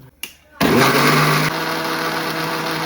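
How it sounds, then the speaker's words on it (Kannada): A mixer grinder starts up and roars loudly as it blends cooked lentils and greens into a paste, a steady high motor whine that holds to the end after a short quieter moment at the start. "ಇದನ್ನು ಮಿಕ್ಸಿಗೆ ಹಾಕ್ಕೊಳ್ಳೋಣ."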